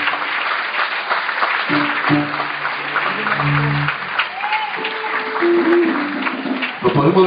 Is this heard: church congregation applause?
yes